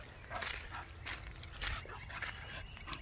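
Several dogs on a group pack walk whimper, yip and bark in short bursts close by, over steady panting and outdoor rustle, with no talk.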